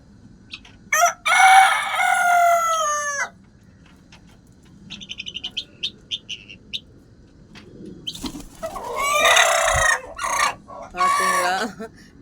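Roosters crow loudly several times, long drawn-out calls, with country chicken hens clucking in short bursts between them on a rooftop, close by and with no talking.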